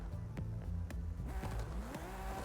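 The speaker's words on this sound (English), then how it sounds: "it's like it has to sit there for a second and build turbo pressure." A Toyota Chaser drift build in the Forza racing game: the engine drones and revs with rising and falling pitch sweeps as it builds turbo pressure, loud and steady with no talking.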